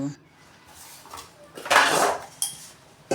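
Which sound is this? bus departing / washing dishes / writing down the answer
washing dishes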